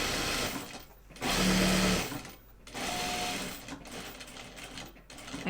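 A sewing machine stitches a bag seam in several bursts, its motor whirring loudly and steadily, with short pauses between runs as the fabric is lined up and pivoted.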